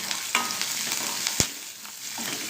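Ponnaganti greens with salt and turmeric being stirred in a frying pan: a soft steady sizzle with a few scraping strokes and one sharp spoon knock near the middle, no talking.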